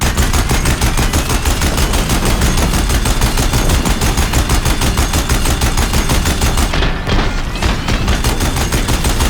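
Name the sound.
Deathbringer machines gunfire at bridge, video game Horizon Zero Dawn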